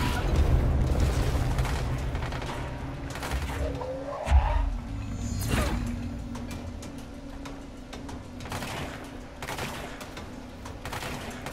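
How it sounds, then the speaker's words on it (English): Explosion in the Control video game at Black Rock Quarry, a loud booming burst amid rumbling combat noise and scattered bangs, close and alone with no speech. "Explosion."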